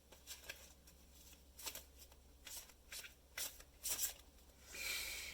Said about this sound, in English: I'm only going to pull 3 cards for today.